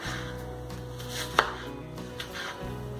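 Knife chopping onion into small pieces on a board: a faint, sparse cutting bed with one distinct chop and a lighter tap later, no talking.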